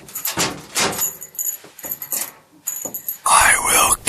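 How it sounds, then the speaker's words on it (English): A gun safe door opens with metallic rattles and clunks and a harsh grinding noise at the end, close by, while people talk over it. "every time I've been opening my safe door, for a few weeks now, I've been hearing this noise"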